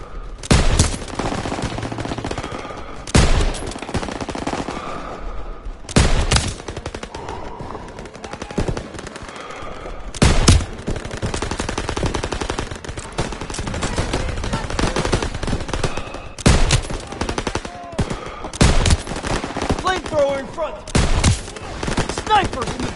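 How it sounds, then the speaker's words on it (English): Machine guns fire in a WWII video game, loud rapid bursts repeating every few seconds over continuous battle noise and scattered gunshots. "MG's open fire."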